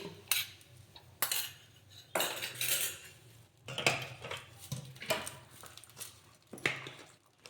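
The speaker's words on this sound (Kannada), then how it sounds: "ಇದನ್ನು ಇವಾಗ ಸಲಾಡಿಗೆ ಮಿಕ್ಸ್ ಮಾಡ್ಕೊಳ್ಳೋಣ" A spoon mixing sprouted mung bean salad in a dish: repeated bursts of close, clinking scrapes against the bowl in an uneven rhythm, with no talking.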